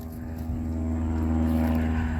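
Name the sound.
light aircraft engine flying overhead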